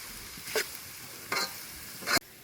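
Beans and carrots sauté in a pan for Singapore-style rice, with three quick scraping stirs cutting over a faint, steady background sizzle.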